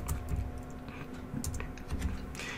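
Close computer keyboard typing, a quick burst of clicky keystrokes with small gaps as a short folder name is entered on a Windows PC.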